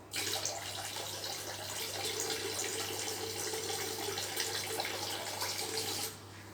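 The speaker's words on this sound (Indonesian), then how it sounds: "ini yang bagian B nya kita tuangkan lagi ke dalam sini, ke dalam bak" Part B of an AB Mix fertilizer solution is poured into a tub as one steady, close splashing stream that runs for about six seconds and then stops, with no voices.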